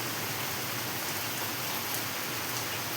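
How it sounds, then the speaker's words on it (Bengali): Heavy rain pouring down on a dark afternoon, a dense, steady hiss of drops on surfaces, continuous and unbroken throughout, with no voices. "এই দেখো বৃষ্টি, খুব পরিমাণে বৃষ্টি হচ্ছে"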